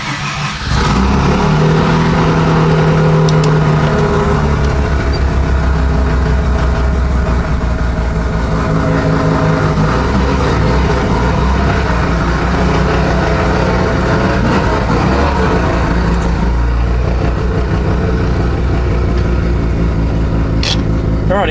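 A Mazda RX-7 rotary engine idles and runs steadily throughout, a continuous loud low hum from inside the car, with some background sound layered over it.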